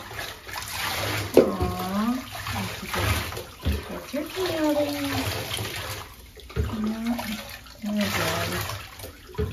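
Warm running water splashes and trickles steadily while rinsing a Basenji dog in a bath, close by, while a voice talks intermittently over the flow.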